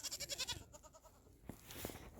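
Young goats bleating on a farm after a morning blizzard, a quick run of wavering, pulsing bleats at the start followed by fainter scattered calls, fairly quiet and close.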